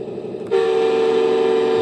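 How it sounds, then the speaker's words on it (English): A custom car horn driven by a modified sound board blares in loudly after a brief pause, a steady tonal honk holding unbroken to the end. "Yeah, that's no simple boring car horn."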